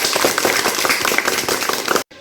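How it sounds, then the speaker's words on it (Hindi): Loud, dense applause from a school audience welcoming the SMC chairman as he takes his seat, a steady wash of many hands clapping together that cuts off abruptly near the end. "जोर से तालियां बजाएं"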